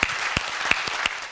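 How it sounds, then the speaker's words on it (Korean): An assembled audience at a Korean religious gathering applauds in a short, fairly close burst of clapping, with a few sharp individual claps standing out from the rest. "이런 하늘의 당부를 잊지 않고 살겠다고 결심한 사람은 박수로 환영해 주시기 바랍니다."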